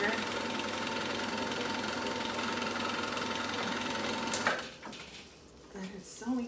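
A sewing machine runs steadily while stitching a fabric headwrap, a continuous close mechanical rattle that stops abruptly near the end, followed by quieter handling noises.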